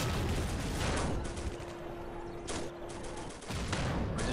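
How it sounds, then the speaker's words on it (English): Artillery fire in the tank game Steel Fury Kharkov 1942, with rapid distant booms and volleys over a rumbling battlefield bed, faint and with no voices. "Second wave of artillery coming in"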